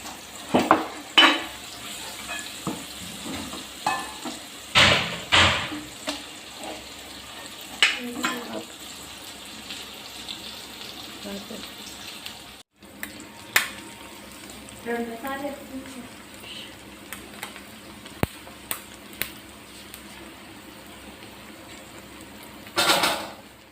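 Fenugreek and mustard seeds are dry-roasted and stirred in a pan for gongura pulihora pachadi, giving intermittent scrapes, light rattles and clinks of a spoon against metal, with a person talking in between.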